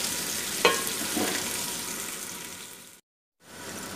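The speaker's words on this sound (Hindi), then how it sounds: "प्याज को हल्का सा गोल्डन ब्राउन करेंगे" Onions frying in a pan until golden brown, a steady close sizzle with a brief clatter of stirring near the start and a short break in the sound toward the end.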